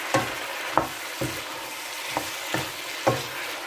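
A spoon stirs chicken curry with carrots in a pan, about six distinct scraping strokes spaced roughly half a second apart over a low, steady sizzle, close and without talk.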